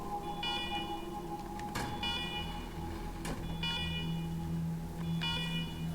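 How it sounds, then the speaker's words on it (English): An alarm blares inside a secure government facility in the video game Wasteland 3, sounding as a loud, continuous electronic wail with repeating pulsing tones and sharp beeps over a low hum. "Alarm, alarm, alarm."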